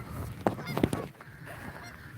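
Migrating geese give a few quick, nasal honks at moderate distance, two or three clustered calls over a dull outdoor background.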